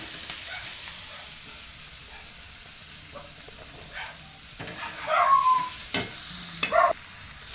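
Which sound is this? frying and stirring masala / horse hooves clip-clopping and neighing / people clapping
frying and stirring masala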